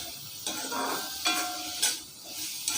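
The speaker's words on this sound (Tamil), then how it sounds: "இப்போ இது எல்லாத்தையுமே நம்ம பச்சை வாசனை போகிற அளவுக்கு வதக்கி எடுத்துக்கிறணுங்க" Spices for a mushroom pepper fry are stirred in a hot pan, with a soft continuous sizzle broken by four sharp scraping strokes of a spoon against the pan, close and clear with no voices.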